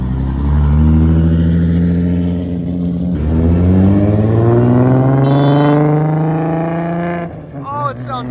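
A Nissan Skyline R34 engine revs hard and climbs in pitch over and over at a car meet, a throaty, roaring burble that dominates throughout, easing slightly near the end.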